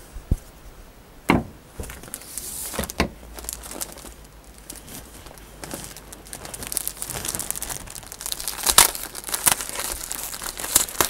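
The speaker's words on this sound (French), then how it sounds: "On va commencer par couper le carbone." Scissors cutting a sheet of 200 g twill-weave carbon fibre cloth, producing sharp crisp snips and crinkling rustles at irregular intervals, growing busier and louder toward the end.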